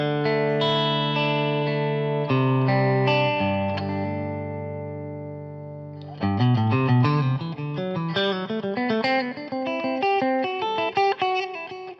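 A distorted electric guitar through a Grossmann FatBox, recorded with a Shure SM57 dynamic microphone, rings out held chords, then shifts to faster choppy riffing; bright and midrange-forward, loud and alone without speech.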